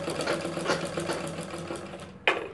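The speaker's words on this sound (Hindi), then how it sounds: "पलटा करके एक सिलाई हम इसके ऊपर चला देंगे।" A sewing machine runs a continuous stitch along piping on the front neck of a blouse, a close, steady rhythmic whirring that ends with a brief clack near the end.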